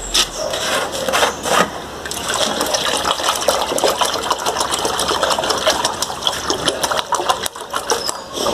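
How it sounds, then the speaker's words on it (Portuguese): Water is poured and sloshed over crushed granite while panning for gold, a continuous splashing and trickling with scraping, gritty clatter throughout. "Vou pôr mais água."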